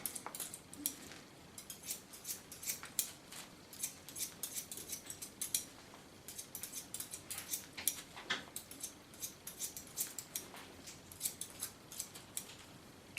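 Crisp, rapid scissor snips repeat in irregular bursts, close and fairly quiet, with no talking.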